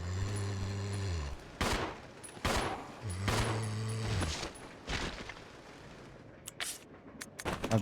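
Gunfire rattles in the Resident Evil 0 video game: several loud, close bursts of rapid shots broken by short pauses, with sustained tones from the game in between and no one speaking.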